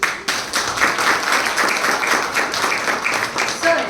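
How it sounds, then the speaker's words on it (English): An audience applauds a chairman at a Rakhi celebration with the Indian Army at a school event, a dense, steady round of clapping from a crowd lasting several seconds. "A huge round of applause for our chairman."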